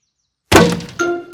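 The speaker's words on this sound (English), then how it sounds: "Who's throwing footballs at my greenhouse?" Cartoon football striking a glass greenhouse: a sudden loud thunk after silence, then a ringing clang and a further hit near the end.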